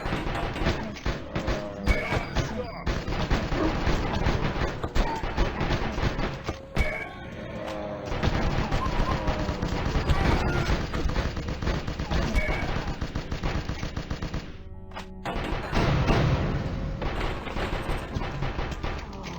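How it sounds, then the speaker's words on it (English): Submachine gun fire in a video game fight against creatures: dense, rapid bursts of close automatic shots, nearly continuous with brief pauses between strings, no voices over it. "The submachine gun is good for this because it's relatively low damage."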